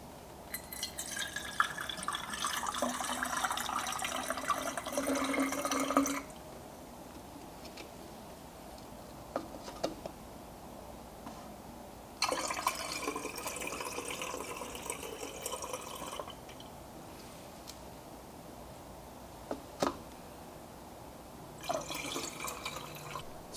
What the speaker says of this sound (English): Right now, we can go ahead and pour the coolant inside.